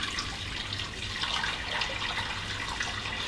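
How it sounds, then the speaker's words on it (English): Water runs steadily into a cooking pot for raw bone broth, a continuous pouring rush with no breaks, fairly close and alone without talk. "The second step is to put some water in here."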